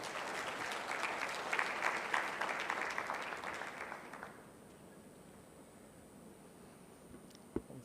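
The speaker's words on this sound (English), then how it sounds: "Let's have a hand of applause as we welcome Professor Lester to talk to us" An audience at a health research and policy symposium applauds to welcome a professor to the stage, steady moderate clapping for about four seconds that then drops away to quiet room tone with a single soft knock near the end.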